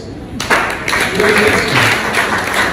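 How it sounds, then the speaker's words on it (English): Audience applause at a university library week celebration, a broad wash of clapping starting abruptly and sustained loudly throughout, with some cheering voices mixed in. "Clap for us."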